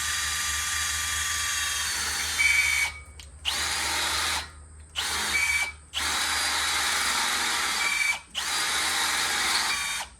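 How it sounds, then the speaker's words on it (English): A power drill bores through metal tubing on a trailer, whining loudly in five long bursts with short pauses between them and occasional squeals as the bit catches. "Thing about drilling this tubing"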